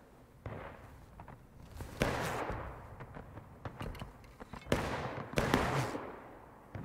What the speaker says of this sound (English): They're shooting way too high.